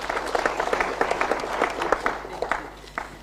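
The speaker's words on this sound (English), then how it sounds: "Let's give her a better round of applause" An audience at a parliamentary affairs strategy launch claps in a steady round of applause, a dense patter of hands filling the room.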